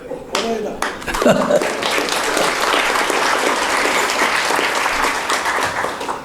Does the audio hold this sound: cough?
no